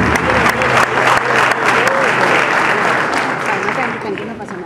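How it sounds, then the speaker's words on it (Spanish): A crowd at a political rally in Ituzaingó breaks into loud, dense applause, a continuous roar of many hands that holds strong, then slowly eases toward the end, with voices mixed in beneath. "Aplauso también para la compañera que da."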